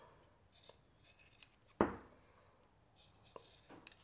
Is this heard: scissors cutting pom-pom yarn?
yes